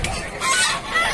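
Geese at a poultry market honk loudly and close by in a quick series of harsh, nasal calls, the honks overlapping over about a second.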